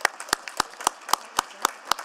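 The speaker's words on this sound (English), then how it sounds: "One more round of applause for our guests." Claps ring out for guests at a city council meeting, evenly spaced sharp hand claps about four per second, fairly close and clear rather than a full crowd roar.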